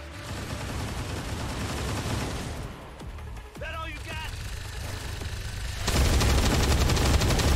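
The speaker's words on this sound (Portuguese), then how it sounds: "É muito tiro." Heavy gunfire from the video game XCOM 2 rattles in dense rapid bursts, continuous and loud, briefly dipping before a louder sustained volley near the end; a voice talks over it.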